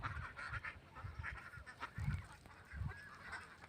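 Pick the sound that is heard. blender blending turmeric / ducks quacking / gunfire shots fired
ducks quacking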